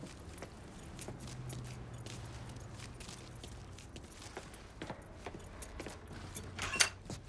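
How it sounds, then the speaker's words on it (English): Truck keys jangle softly in Mafia III Definitive Edition, a faint metallic rattle with scattered light clinks over low background ambience. "grab those keys"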